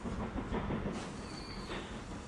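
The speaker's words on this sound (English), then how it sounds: "Oil train takes off." A train departs in the video game Transport Fever 2, with a steady low rumble, faint hiss and a thin high whine, quiet and continuous with no talk.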